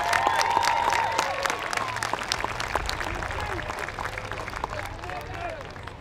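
A graduation audience at a high school ceremony claps for a guest speaker, with steady applause and crowd noise mixed with some babble throughout.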